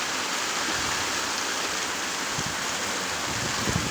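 Heavy rain during a westerly storm at sea off Ujung Kulon, heard as a dense, steady hiss of downpour that stays close and loud throughout with no talk.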